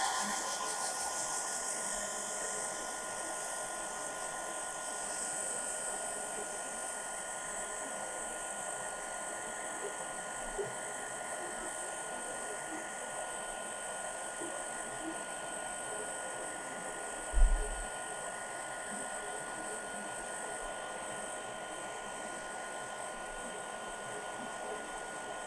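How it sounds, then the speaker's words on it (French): A hair dryer blows steadily on a freshly painted scale model, its even broadband whoosh running unbroken throughout, with a single faint knock partway through. "j'utilise le sèche-cheveux qui ne me sert plus que pour le modélisme d'ailleurs"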